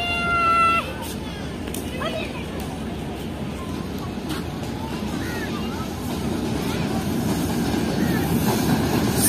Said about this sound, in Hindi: ये AG30 के साथ आ रही है कराची रावलपिंडी के दरमियान चलने वाली 7UP तेजगाम एक्सप्रेस